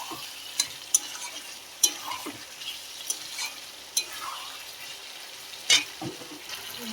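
Papad curry (dalna) cooking down in a pan, with faint low sizzling and scattered stirring scrapes and clinks spread unevenly across the stretch, no voices present.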